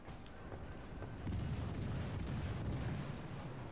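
Warship guns firing in the World of Warships naval battle game, a series of heavy booming shots at irregular intervals over a low rumbling background, fairly distant and muffled.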